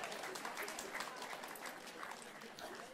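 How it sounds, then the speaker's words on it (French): Audience applause during a church service with a stage illusion act: soft, fairly distant clapping from a crowd, continuous and even throughout, with faint voices underneath. "Merci de m'applaudir, merci."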